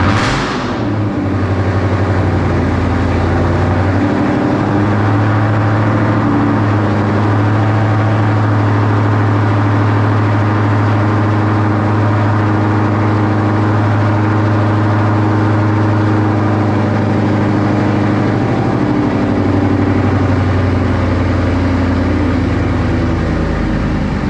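A Ford Mustang S197 engine running while driving, a loud, steady low droning rumble heard from inside the car with slight shifts in pitch and no talk.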